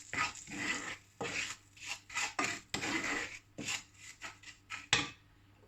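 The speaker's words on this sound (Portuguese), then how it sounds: "Vamos mexer." Spoon stirring a tablespoon of butter with two spoonfuls of sugar in a bowl, a run of short scraping, rasping strokes in an irregular rhythm, close up with no talking.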